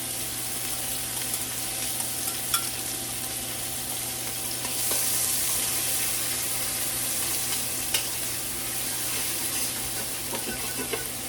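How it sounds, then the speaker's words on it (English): Diced onion fries in hot bacon drippings in a warm pot, giving a steady, dense sizzle that stays close and even throughout, with a few small pops and clicks. No one speaks. "we're just going to add our diced onion into this nice hot bacon drippings"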